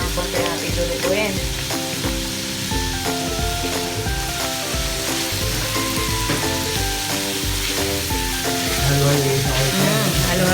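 Carrots sizzle and fry in a pan as they are stirred during bopis cooking, a loud continuous sizzle with scraping stirs and music playing underneath.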